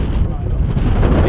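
Gusty wind buffets the microphone at a model airplane flying field on the maiden day of an FX79 flying wing, a loud low rumbling roar that fills the brief moment.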